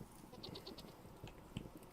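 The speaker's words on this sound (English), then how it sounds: "Maybe it was a goat." Video game goat bleating in a few short, faint calls over low background ambience, with scattered quiet sounds in between.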